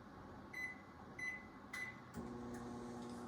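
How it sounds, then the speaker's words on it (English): Three short electronic beeps from a microwave set to half power, then the oven starts with a low steady hum and a couple of clicks, quiet and close. "put them in a bowl, and then microwave them at 1/2 power for 30 seconds"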